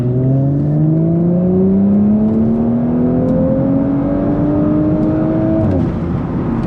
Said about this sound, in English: So now I'm going to third, just at about 2000, and I'm gonna floor it